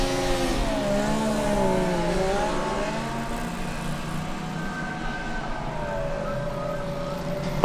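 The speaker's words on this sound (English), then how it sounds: "I can hear the car from Rezhov." A Formula Student race car engine whines in the distance during an endurance event, its pitch rising and falling as it revs and passes, steady and continuous throughout.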